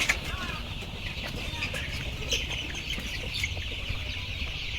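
Around a thousand Sonali chickens in a crowded farm shed cluck and chatter continuously, a dense flock murmur with occasional sharper calls and faint wing flaps throughout.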